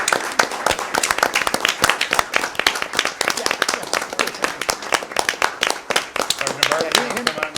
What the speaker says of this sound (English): how about a round of applause for Yeah. Sergeant Hoydick and Sergeant Barber?